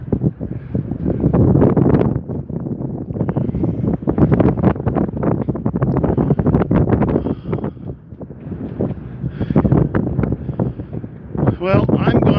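Strong wind gusts roar and buffet the microphone aboard a sailboat as the breeze picks up, a loud, continuous rush with some rustling and flapping, while someone talks over it.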